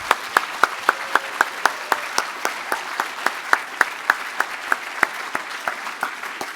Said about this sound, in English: if we can just give them all a big round of applause.